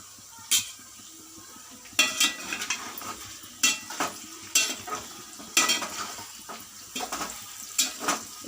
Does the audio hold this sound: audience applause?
no